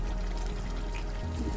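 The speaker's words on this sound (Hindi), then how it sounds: "मैं भी थोड़ा सा पानी डालूँगी इसमें" Water is poured into a simmering chicken and potato curry in a home kitchen, a soft steady trickle and splash over faint cooking hiss, with no voices.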